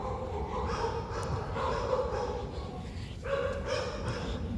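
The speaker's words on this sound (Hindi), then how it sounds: "यहाँ कुत्ते भौंक रहे हैं" Dogs bark in a residential colony of Sector 10A, Gurugram, Haryana, a mix of overlapping barks and yips at moderate distance, repeating irregularly over steady outdoor background noise.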